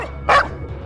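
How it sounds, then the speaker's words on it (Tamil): Street dogs bark outside a house at night, one loud, sharp bark standing out briefly against quieter background noise. "வீட்டினுடைய வெளி சைடு வந்து பார்த்தீங்கன்னா தெருநாய்கள் பயங்கர கூச்சலிட்டு கத்தி இருக்குங்க"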